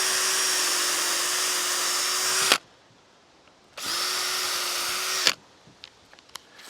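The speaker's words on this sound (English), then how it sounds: "let's just go ahead and drill these bad boys" A power drill bores holes in two long, loud, steady high-pitched whirring bursts of about two and a half and one and a half seconds, each ending abruptly, then a few light clicks.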